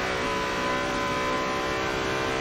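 Racing car engine in a video game holds a steady, continuous revving drone with dense harmonic buzz, loud and alone throughout without pauses or talk.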